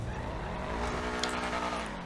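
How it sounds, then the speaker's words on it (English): Custom sports car starting up in GTA 5, a deep, rumbling engine turning over and settling into a loud, throaty idle that holds steady, close and alone. "this car is such a sexy startup"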